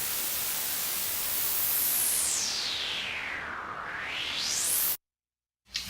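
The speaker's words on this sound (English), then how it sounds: "we have this noise sweep sound that sounds like this." A mono synthesizer noise sweep hisses loudly, its filter gliding down then back up over several seconds before cutting off abruptly into silence.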